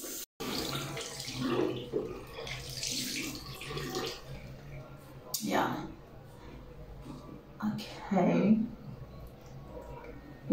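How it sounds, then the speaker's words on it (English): A tap runs into a sink while a face is rinsed, the water flowing steadily and close by with splashes and a few louder surges, and someone talks over parts of it. "I'm gonna rinse it."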